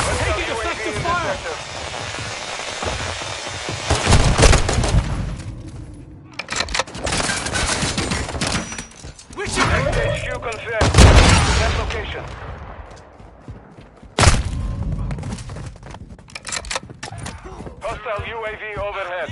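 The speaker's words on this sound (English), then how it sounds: "Taking effective fire." Call of Duty gunfire in bursts of rapid automatic shots and fusillades, loud and close, alternating with quieter gaps, while radio-style voices talk over the action.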